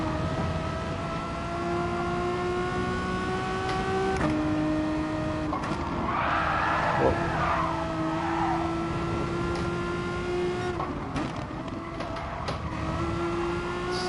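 A Renault Megane Trophy race car in the GT Sport racing game drives with a steady engine drone, rising through the gears in repeated whining sweeps with brief shift breaks, close and continuous with no talking.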